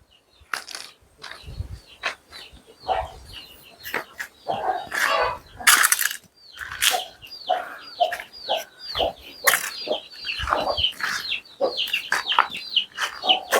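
Native country chickens on a village farm cluck and squawk repeatedly nearby, a busy flock calling in irregular bursts with scattered rustling.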